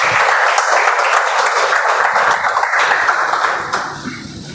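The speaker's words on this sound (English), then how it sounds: "please, with a huge round of applause." Sustained audience applause at a Toastmasters speech marathon meeting greets a speaker walking onto the stage, dense and steady before tapering off near the end.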